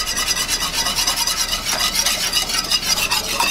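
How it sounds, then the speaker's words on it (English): Flour whisked into a roux for a cheddar cheese sauce, a steady close scraping and stirring rasp with a soft sizzle underneath, continuous and fairly loud with no talking. "we're gonna slowly start to whisk in our flour until we get a wet sand"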